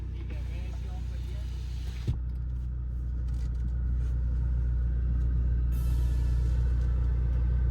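Skoda Octavia cars, a Stage 3 1.8 TSI vRS against a stock 2.0 TSI, racing on the road: a steady low engine and road rumble, heard from inside a car, with one sharp thump near the start.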